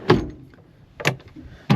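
Two or three short sliding thuds, like a drawer being pulled open and pushed shut, close by with quiet gaps between; storage drawers in a Tacoma AluCab canopy camper.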